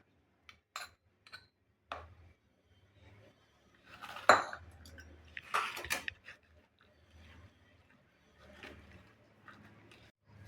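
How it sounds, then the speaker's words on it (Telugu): Gongura chutney is moved into a bowl, making intermittent close clinks and scrapes of a spoon against dishes with quiet pauses between, and a louder clatter midway. "ఇప్పుడు మళ్ళీ ఇది ఈ గిన్నెలోకి తీసుకుంటున్నా"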